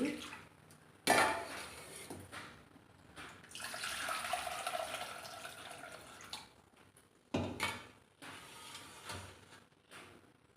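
Urad dal being rinsed in a vessel, with water sloshing and splashing as it is poured off in a few short bursts, separated by quieter stirring and dripping.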